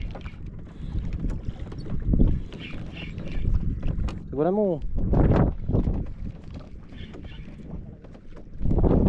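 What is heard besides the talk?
wind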